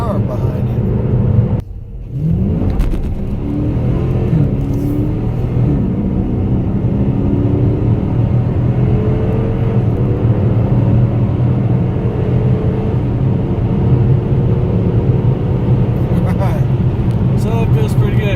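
A car with an 8-speed transmission accelerates, its engine a steady, loud low drone and rumble that holds throughout, with a person talking over it.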